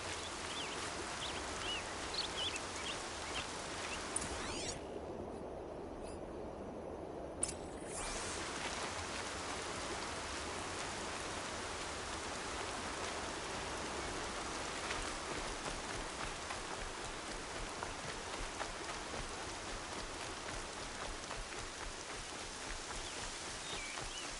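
Rain falling in the video game Horizon Zero Dawn: a soft, steady patter of drops over a low ambient bed, even and unbroken throughout, with no voices.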